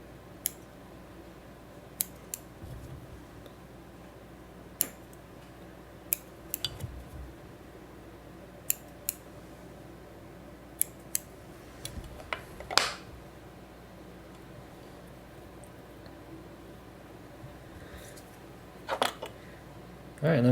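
Scissors give sharp, quiet snips while trimming the legs of a chubby Skwala fly pattern at a fly-tying vise, with a handful of isolated clicks spread out over a low room hum.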